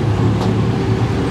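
A jeepney driving on the road, a steady low engine drone with road rumble, close and continuous, no voices.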